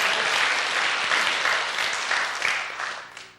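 A church congregation at a Friday prayer meeting claps together in warm, sustained applause that fades out toward the end.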